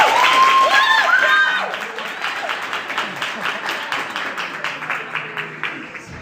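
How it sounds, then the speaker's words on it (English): An academic audience gives a lecturer a round of applause, loud at first with a few whoops and voices over the clapping, then thinning into scattered, fading claps. "let us give him a round of applause"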